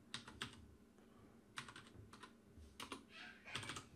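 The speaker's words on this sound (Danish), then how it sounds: "Og så skal du taste den kode, der nu vises på" A verification code is typed on a keyboard, with short bursts of quiet clicking keystrokes in irregular clusters and brief pauses between them.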